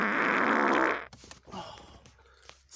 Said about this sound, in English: I can still fart though.